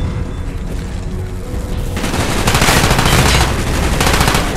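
Gunfire in the shooter Call of Duty Black Ops, a loud stretch of rapid automatic bursts and booming shots that swells in the second half, dense and close with no talk over it.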